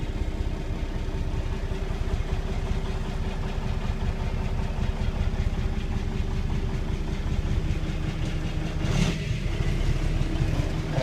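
A 1998 Kenworth T800 dump truck with a K-Line transfer box idles with the PTO engaged, a loud, steady low diesel rumble and drone running throughout, with a brief sharper clank near the end.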